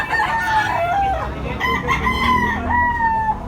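A regular-size yellow-legged bullstag rooster crows loudly and close by, in long drawn-out calls that overlap with clucking and a second crow over a noisy farmyard background.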